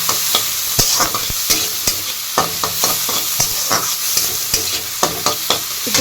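Tomatoes sauté in a pan on a low flame for Orissa-style prawn thokku, a steady soft sizzle broken by repeated sharp scrapes and taps of a stirring spoon, close and loud with no talking.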